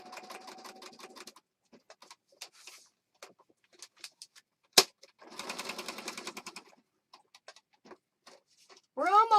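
A sewing machine stitches through a handmade enchanted rose junk journal in short bursts of rapid mechanical patter, separated by pauses, small taps and handling noises, with one sharp click near the middle and a person talking briefly at the end.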